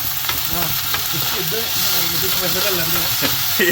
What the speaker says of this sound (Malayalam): അരിഞ്ഞ് വെച്ച സാധനങ്ങൾ മൊത്തം ഇടുന്ന് എന്നിട്ട് നമുക്ക് നല്ല ഇളക്കി കൊടുക്കാം